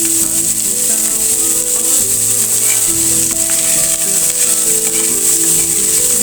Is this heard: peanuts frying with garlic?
yes